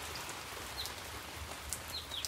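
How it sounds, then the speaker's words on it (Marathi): Rain falls as a steady, gentle hiss of drops, with a few faint bird chirps high above it. "आणि आता बघा पूर्ण पाऊस पडला"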